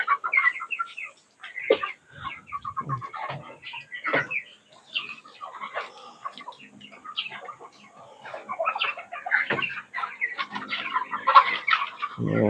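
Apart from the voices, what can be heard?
chickens clucking at feeding time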